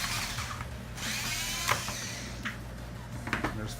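A small power driver or tool running steadily on the screw in a 2004–2006 Scion xB speedometer cluster, a quiet continuous whirring hum with a few faint clicks and taps.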